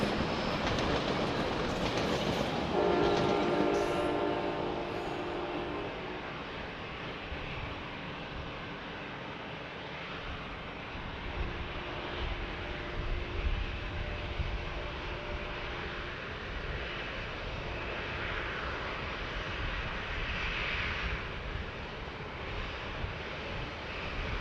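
Star Alliance airliner in a special livery passing over San Diego, a steady broad engine roar with a brief tonal whine early on, moderately distant and continuous throughout.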